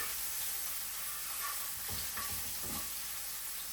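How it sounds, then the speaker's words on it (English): Onion and garlic sauté in leftover fish-frying oil, giving a low, even sizzle with a few faint stirring scrapes toward the end. "the onion, and I add like 2 cloves of garlic. And you just saute them."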